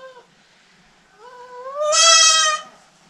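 A goat on a farm lets out a single drawn-out bleat, heard close and clear. It rises into a loud, strained peak and then breaks off, preceded by a softer call in a quiet setting.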